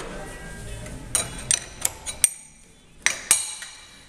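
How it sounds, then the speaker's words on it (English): A metal drill chuck handled in a machine shop, giving several sharp metallic clinks and knocks spread unevenly over a few seconds against a quiet background. "And get the drill chuck out."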